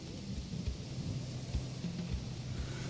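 A thunderstorm rolls in within the video game Roadcraft: a steady low rumble of thunder over continuous rain hiss, with no one talking.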